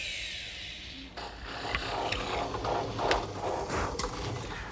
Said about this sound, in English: I'm ready to drill the holes.